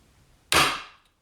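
A Wright ratchet under a torque test at about 164 foot-pounds gives one sharp, loud crack that fades over half a second in an otherwise quiet setting.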